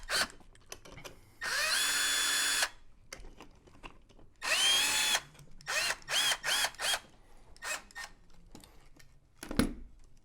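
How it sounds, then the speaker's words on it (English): Power drill with a small bit, in bursts while repairing a robotic dog's broken leg: two long whining runs, then several short pulses and a few brief blips, close and loud, with no talk. "I need drill bit number 2 now."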